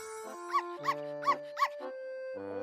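A dog in a cartoon scene barks four times in an even rhythm, each bark short and clear over soft sustained background tones, with no voices.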